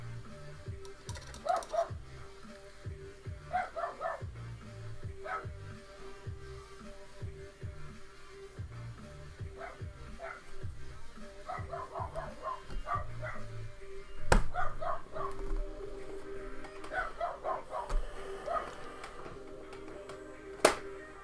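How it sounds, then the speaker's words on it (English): Dusty, a female dog, barks outside in repeated short bursts, somewhat muffled and distant, spread across the stretch with irregular gaps and scattered light tapping nearby. "Oh, Dusty. She's out there barking again."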